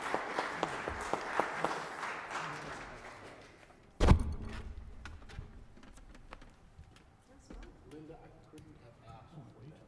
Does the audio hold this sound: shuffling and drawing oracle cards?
no